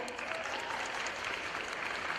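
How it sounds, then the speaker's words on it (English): An audience at a middle school award ceremony gives a round of applause for a newly announced student officer, a brief, even wash of many clapping hands at moderate loudness with no voices over it. "You can give her a round of applause."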